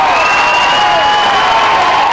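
A home crowd cheers and roars at the close of a high school girls' Class D basketball championship final, loud sustained whoops and shouts filling the gym alongside whistling tones, with a commentator's voice faintly mixed in.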